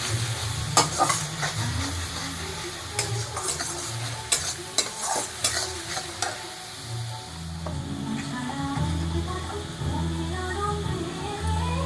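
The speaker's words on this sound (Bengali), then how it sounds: "দেখো মশলা কষাচ্ছি" Spices sizzling and frying in a pan while a spoon stirs and scrapes them around, a continuous close hiss broken by clinks and scrapes in a home kitchen.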